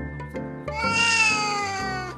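A pet cat living with an elderly woman gives a drawn-out, loud meow close by after a couple of short chirps, and the long note bends as it goes.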